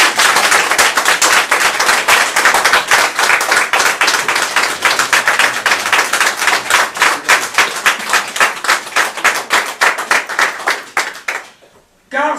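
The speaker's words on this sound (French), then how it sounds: "Applaudissements." A loud, dense ovation for the resistance griot guitarist at a Congolese anti-dictatorship gathering, with rapid close hand claps running steadily before thinning and cutting off near the end.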